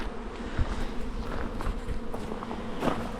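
A honey bee swarm buzzes in a low, continuous drone close by, with a few brief thumps and rustles breaking through the hum.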